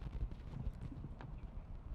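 A show-jumping horse in a 1.50m CSI5* competition, its hooves clip-clopping in a steady, rhythmic stride on arena footing, fairly close, with no talk over it.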